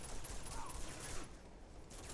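Enemy gunfire in the video game Uncharted 2: Among Thieves crackles as a fairly quiet, continuous rattle of rapid shots, with no clear pauses over about two seconds.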